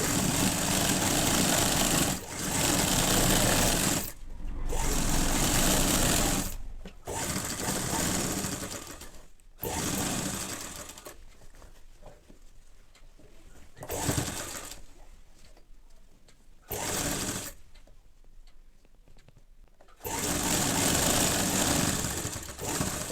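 A sewing machine stitches a French seam along the side of a half-sleeve shirt. It runs in loud, close bursts of whirring stitching separated by short pauses and quieter stretches.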